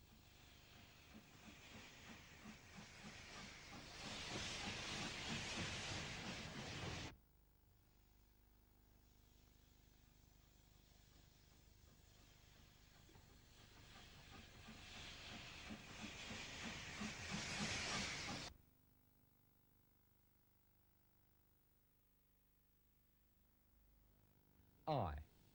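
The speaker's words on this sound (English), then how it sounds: "The train wends its way through pleasant Kent countryside over a line that was soon to be closed." A steam train runs along a soon-to-close line through Kent countryside, giving a steady hissing, chuffing rumble that swells loudly, drops away, then builds again before fading to near quiet, with a sharp burst at the very end.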